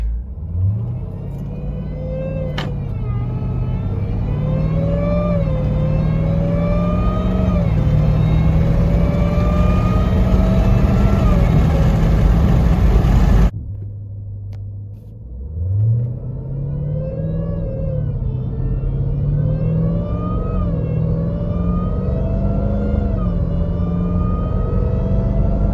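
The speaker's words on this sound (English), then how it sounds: "I'll just do a casual pull here so you can hear how loud the blower is." Supercharged Jeep Trackhawk engine pulling hard through the gears, a loud rising blower whine layered over a deep rumble, dropping briefly at a shift before climbing again, close and steady with no talking.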